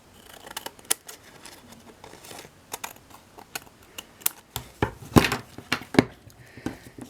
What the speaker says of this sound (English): Cut the excess off.